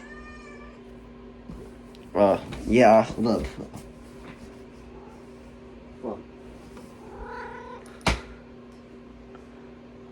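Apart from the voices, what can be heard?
cat meowing and purring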